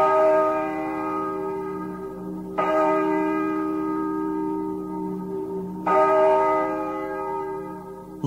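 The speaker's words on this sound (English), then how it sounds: "It's noon and the Angelus bell is sounding on the radio" An Angelus church bell rings at noon over a radio, with two loud, clear strikes a few seconds apart, each leaving a long, humming resonance that slowly fades.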